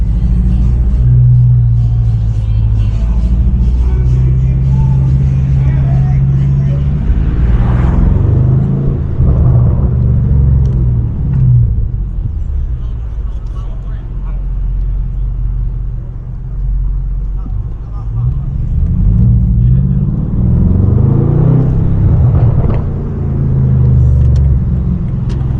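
BMW M550i with a straight-pipe exhaust driving downtown, a deep loud rumble that surges with revving bursts, eases off midway and builds again, while people talk inside the car.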